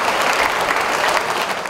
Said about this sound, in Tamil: அன்புக்குரிய நெல்லை சுப்பை அவர்களுக்கு ஒரு பெரிய கரகோஷம் கொடுத்து அவரை அன்போடு வரவேற்றுருங்க.